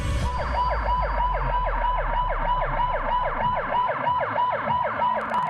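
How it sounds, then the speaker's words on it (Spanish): Sirens wail continuously from protesting Yemeni doctors outside UN headquarters in Sanaa, several overlapping up-and-down tones cycling rapidly and loudly over a low traffic rumble, with no talk. "Con estas sirenas, los médicos yemeníes protestan frente a la sede de la ONU en Saná"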